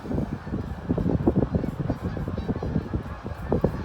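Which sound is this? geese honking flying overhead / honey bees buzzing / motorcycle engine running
geese honking flying overhead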